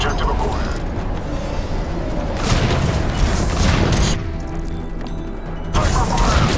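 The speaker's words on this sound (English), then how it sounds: "Sniper fire! He's taking fire!" Sniper gunfire in the video game Mass Effect 3, heavy booming shots and crashes in a dense, loud battle mix, with voices calling out over it.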